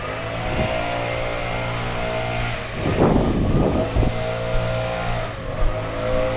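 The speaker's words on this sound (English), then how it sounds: "Got Spady over there with his blower" A blower-equipped engine drones steadily nearby, swelling briefly as if revved, with a continuous mid-pitched roar throughout.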